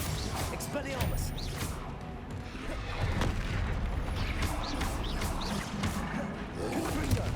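Spell blasts and crashing explosions from the video game Hogwarts Legacy, dense and continuous with repeated booming impacts and clattering debris, a voice shouting spell names over them.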